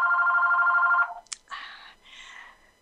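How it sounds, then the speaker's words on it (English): A telephone rings during an RTI-based SLD identification webinar: a steady electronic ring for about a second, then a click and a few shorter warbling tones, alone with no talk. "And I apologize for that phone."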